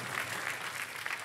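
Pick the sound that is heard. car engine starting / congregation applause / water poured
congregation applause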